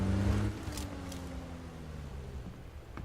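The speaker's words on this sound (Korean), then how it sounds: "차 소리, 차 소리." Car engine in the PUBG battle royale game, a faint distant drone whose pitch slides gradually downward as the vehicle moves off, heard quietly with no voices.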